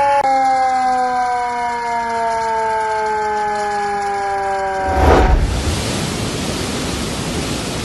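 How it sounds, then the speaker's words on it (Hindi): A loud danger warning siren in Punjab, Pakistan, sounding during river flooding, holds a droning tone that slowly sinks in pitch, then gives way to a rushing broadband noise. "खतरे के सायरन बज उठे।"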